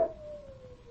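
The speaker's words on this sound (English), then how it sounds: "It's the cry of a wolf." A single drawn-out howl, a steady mid-pitched tone sliding slowly downward after a brief onset, fairly close and alone.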